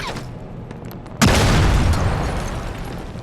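A grenade explodes in the video game Gangstar Vegas with a sudden loud, close boom after a quieter stretch of faint clicks, then a long rumbling decay, with no talking.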